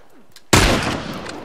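A single sharp rifle shot cracks loudly in The Last of Us multiplayer, following a quiet moment and trailing off into a short echoing decay.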